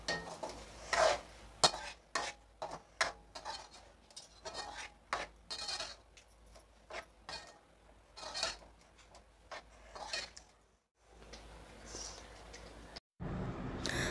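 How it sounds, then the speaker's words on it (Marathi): Spices and yogurt are stirred in a pan with a utensil in quick, irregular scraping strokes, faint and close, with light sizzling and a short pause before the stirring resumes. "आता मी त्याच्यामध्ये अर्धा वाटी दही घालून घेते आणि आपण हे परतून घेऊया।"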